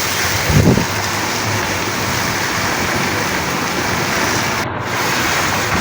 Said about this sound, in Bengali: ভালো করে নেড়ে চেড়ে দিচ্ছি